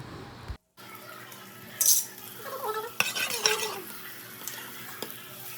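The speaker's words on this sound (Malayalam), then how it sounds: "ഇനി നമുക്ക് ഇതിലേക്ക് ആവശ്യത്തിനുള്ള ഉപ്പ് ചേർത്ത് കൊടുക്കാം എന്നിട്ട് നന്നായിട്ടൊന്ന് മിക്സ് ചെയ്ത് കൊടുക്കാം" Masala with added water and salt is stirred in a pressure cooker, giving scattered scraping and clinking of a spoon against metal with light liquid sloshing, fairly close and quiet.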